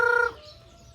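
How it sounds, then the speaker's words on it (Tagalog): Chickens in a farmyard in South Cotabato, a short close cluck or squawk burst followed by faint trailing sounds, with no speech. "Pakain tayo ng manok."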